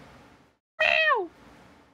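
A single loud, drawn-out meow imitated by a voice during a video game stream, sliding downward in pitch, standing alone between stretches of faint background sound.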